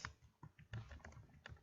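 Fingers type on a computer keyboard in short irregular bursts of close, crisp key clicks, with brief pauses between strokes and no talk.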